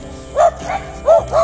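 A dog at a rural house among former sugarcane fields barks four times in quick, yippy bursts, close and fairly loud, with short gaps between them.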